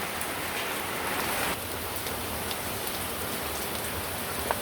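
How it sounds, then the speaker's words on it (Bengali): Heavy rain falls steadily outside, a dense, even hiss of drops that continues unbroken and on its own throughout. "আর এই যে বাইরে কিন্তু ভালো রকম বৃষ্টি নেমে গেছে।"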